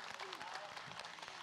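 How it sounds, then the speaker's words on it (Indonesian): Audience applause from the congregation at an Indonesian Islamic talk show taping, a dense wash of clapping with talk mixed in over the top. "Boleh sekali lagi tepuk tangannya dong jamaah"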